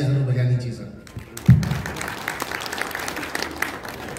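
Audience applause at a coriander crop and price outlook seminar, a short burst of clapping that swells after a lull and then carries on as a steady patter beneath a few voices.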